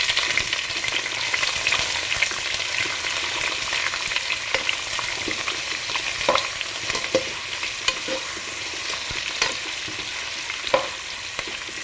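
Onions frying in hot oil with green chilli, bay leaf, cinnamon and cloves for egg biryani, a steady close sizzle with intermittent stirring scrapes and clinks throughout, no voices.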